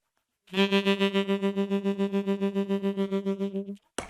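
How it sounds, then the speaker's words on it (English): A sustained saxophone note through a Line 6 HX Stomp tremolo effect pulses rapidly and evenly in volume, a steady throb lasting about three seconds before cutting off. "that sounds like this with tremolo"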